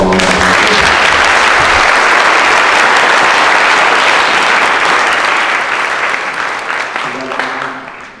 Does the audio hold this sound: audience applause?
yes